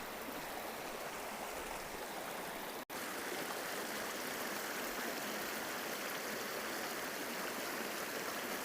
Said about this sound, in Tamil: அற்புதமான ஒரு காவேரி ஆறு ஓடி இருக்குது